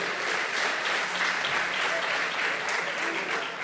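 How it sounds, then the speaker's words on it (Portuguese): A church congregation bursts into steady, dense applause, loud and continuous throughout with no pause or break. "Pode aplaudir a Jesus por isso."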